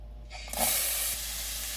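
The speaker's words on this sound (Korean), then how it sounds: "달구어진 냄비에 참기름 한 스푼, 들기름 한 스푼을 넣어줍니다" Sesame oil and perilla oil hiss and sizzle sharply as they hit a hot pot, a steady bright crackle that starts abruptly and holds for a second or so.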